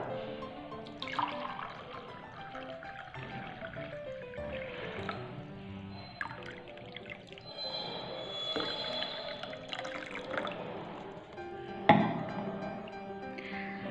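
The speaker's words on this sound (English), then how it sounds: "First we will fill these glasses with water." Water is poured to fill drinking glasses for a simple classroom science activity, giving a continuous trickling, splashing flow with some faint clinks, moderately close and unaccompanied by talk.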